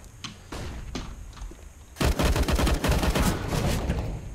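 Gunfire in a shooter video game: a few scattered single shots first, then a dense, loud burst of rapid automatic fire that keeps going to the end.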